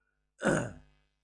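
A single short, throaty clearing or cough, reacting to the smell of home cooking, loud and close in otherwise near silence, lasting well under a second.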